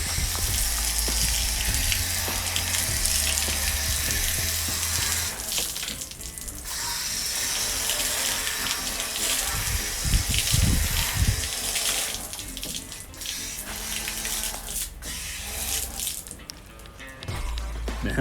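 Water sprays and splashes steadily over a freshly refinished part from a 1950 MG rebuild, a continuous close hissing rinse with shifting gurgles and no voices.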